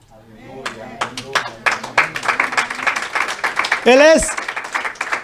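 A church congregation claps during a Spanish-language sermon, scattered claps building into denser, faster applause while the minister keeps speaking loudly over it.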